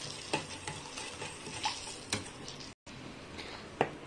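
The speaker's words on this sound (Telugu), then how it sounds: "దీన్ని మనం కర్డ్ లో మిక్స్ చేసుకోవాలి." A spoon stirs a curd mixture for curd vada in a bowl, quiet close scraping and soft clicks in an uneven rhythm, with a brief silent gap near the end.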